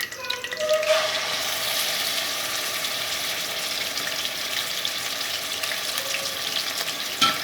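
Mutton pieces hit hot oil in a karahi with a sudden burst of loud sizzling that then settles into a steady, close crackle and hiss.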